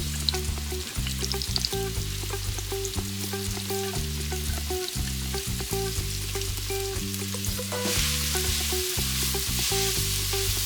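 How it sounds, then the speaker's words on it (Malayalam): Sliced onions sauté in vegetable oil for a chana kurma, crackling steadily with the scrape of stirring, heard close and loud with a rhythmic hum underneath. "അതൊഴിച്ച് നമുക്ക് അരിഞ്ഞു വെച്ചിരിക്കുന്ന സവാള ആദ്യം നല്ലവണ്ണം വഴറ്റിയെടുക്കാം"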